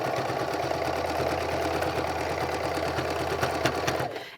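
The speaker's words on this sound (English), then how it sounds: "you also want to make sure you're not sewing over those pins" A sewing machine stitches a fabric seam with a steady, fast mechanical whirr and rapid needle clatter, close and continuous with no voices, before stopping abruptly at the end.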